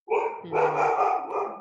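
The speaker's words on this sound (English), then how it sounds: "So, that's my dog." A dog gives a short burst of barks indoors, loud and close, with a brief growl.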